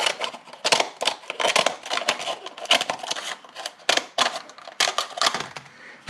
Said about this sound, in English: I'm going to cut my cup